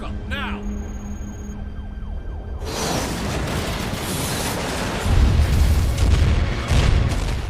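A movie explosion as a man drives a car straight into an elevator to escape police: a deep, loud broadband boom bursts in after a quieter start, then rumbles and roars on with heavy low-end surges.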